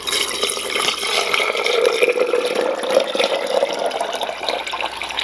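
Liquid poured steadily into a turkey sitting in a cooking bag for a cast iron roast, a continuous close splashing gurgle lasting several seconds with no talk.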